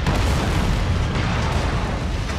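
Mech weapon fire and a heavy explosion from the MechWarrior 5: Mercenaries video game make a loud, sustained booming rumble with dense low-end blast noise that fills the whole stretch without any speech.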